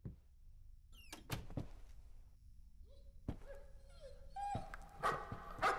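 A dog in the horror video game Layers of Fear gives a few distant, muffled barks and whimpers among thuds and door-like knocks, sparse and faint in an otherwise quiet space.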